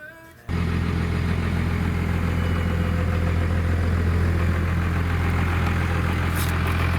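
A Dodge truck engine warming up, idling with a steady, loud, low rumble that kicks in after a brief quiet moment and holds an even drone the whole way through.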